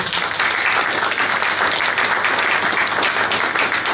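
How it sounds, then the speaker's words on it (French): At a political party general assembly in Île-de-France, the crowd breaks into loud, continuous applause, a thick wall of clapping sustained throughout. "C'est le professeur Maurice Kamto, que je vous prie d'applaudir, s'il vous plaît"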